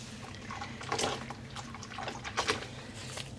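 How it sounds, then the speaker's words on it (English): Water dripping and splashing as wet cotton yarn skeins, dyed in cherry blossom colours, are squeezed out by hand; two clustered bursts of drips and trickles over a low steady background hum. "And just squeezing out the water."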